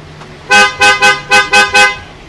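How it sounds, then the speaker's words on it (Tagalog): A 2017 Toyota FJ Cruiser's newly fitted horn honks six times in quick succession, loud and close, with short gaps between blasts. "Sound test natin yung horn."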